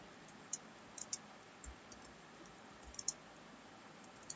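Computer keyboard typing of an HTML program, sparse light clicking keystrokes in small irregular bursts, close but quiet over faint background hiss.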